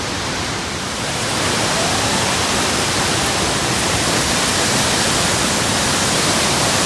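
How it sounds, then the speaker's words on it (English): Waterfall near the Lake Agnes tea house on a mountain hiking trail, a loud, steady broadband roar of falling water that swells slightly in the first second and then holds constant. "It's a nice waterfalls."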